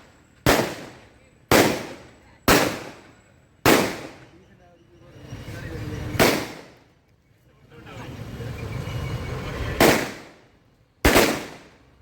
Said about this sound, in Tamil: வெடிகள் எல்லாம் கொளுத்தி அமோக வரவேற்பு கொடுக்கணும்